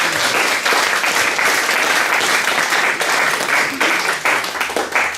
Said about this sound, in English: I just want us all to give a little clap to Daphne